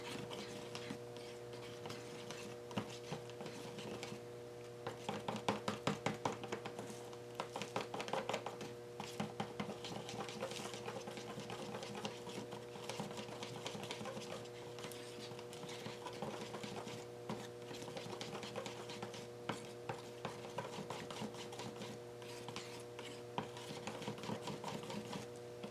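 Pouring medium being stirred into acrylic paint, a faint, continuous scraping and tapping of a stirrer against the container that comes in repeated quick strokes, quiet and close.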